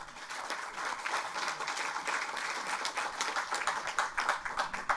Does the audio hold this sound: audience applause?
yes